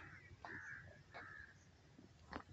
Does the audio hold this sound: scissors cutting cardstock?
no